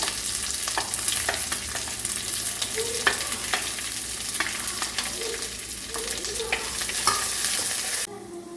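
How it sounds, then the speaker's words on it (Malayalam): Chopped shallots fry in a pan for a Kerala-style king fish curry, giving a steady close sizzle with repeated scraping stirs throughout and no voices. "ഇനി ഇതിലേക്ക് നമുക്ക് അരിഞ്ഞു വെച്ചിരിക്കുന്ന കൊച്ചുള്ളി ചേർത്ത് കൊടുക്കാം"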